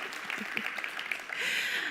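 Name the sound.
audience applause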